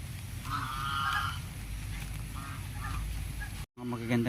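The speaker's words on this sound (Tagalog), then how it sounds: "At yun naman yung mga bibi sa kabila" Ducks honk and quack in a flock across the way on a Philippine farm that also raises pigs and chickens, the calls bunched in the first second and a half over steady barnyard noise, followed by a brief dropout.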